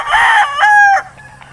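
A brood stag rooster crows once, loud and close, in a short clipped call with a brief break before the final drawn-out note, followed by quiet farmyard hush.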